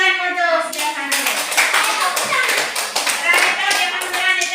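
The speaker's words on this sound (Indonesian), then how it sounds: "Tepuk tangan untuk Devan dulu." Children in a classroom clap for a classmate named Devan, a brisk burst of hand claps up close mixed with young voices talking and calling out over it.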